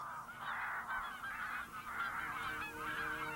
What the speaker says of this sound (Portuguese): Depois das gralhas, Laurence passa a observar os patos e os gansos que vivem nos campos perto de Altenberg